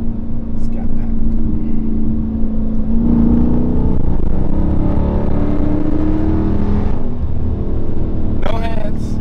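A Dodge Charger Scat Pack 392 engine roars steadily as the car slides through a turn, a loud, close, sustained rumble that rises in pitch midway, with a voice briefly heard near the end.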